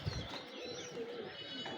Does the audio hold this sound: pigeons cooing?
yes